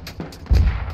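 Gunfire in the Squad combat video game on the Fallujah map: a single loud, close burst of shots cracks out midway after a quieter moment.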